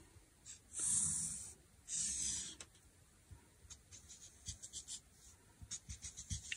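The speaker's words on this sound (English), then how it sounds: "I'm going to make a little sketch for myself" Pencil sketching on paper, a rough sketch for a custom book dust jacket, heard as close, soft scratchy strokes: two longer sweeps early, then a run of short quick marks.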